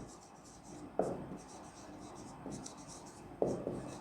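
Chalk or marker scratching across a board during a math class on sets, two short firm strokes standing out over a quiet room.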